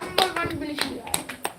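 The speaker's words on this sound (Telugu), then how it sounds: "clap everybody for this" Children in a study-circle class clap for a classmate, several uneven, fairly quiet claps mixed with kids' voices talking in the background.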